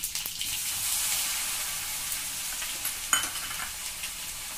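Garlic dropped into hot oil already crackling with cumin and mustard seeds for a dal khichdi tadka, giving a loud, steady hiss and sizzle close by, with a brief sharp pop and spatter partway through.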